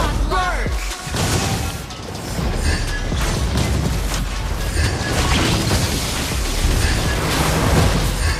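Valir's Lava Burst fire ability explodes in Mobile Legends: a loud crashing blast followed by a dense, roaring rumble of fiery impacts with game voice lines and effects layered over it.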